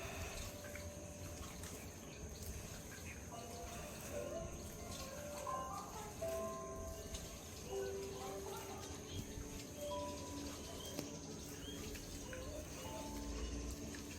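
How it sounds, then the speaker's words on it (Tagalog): Birds calling faintly in a garden under a pine tree, scattered short chirps and cooing notes spread across a quiet background hum and trickling water, distant and soft. "Tapos maririnig mo lang yung mga huni ng ibon."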